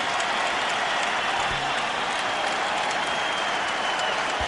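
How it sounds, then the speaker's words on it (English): A sellout arena crowd at the Staples Center gives a standing ovation during a 2002-03 NBA game between the Wizards and Lakers, a dense, steady roar of applause and cheering that fills the whole moment without letting up. "to a standing ovation from the Staples Center sellout crowd"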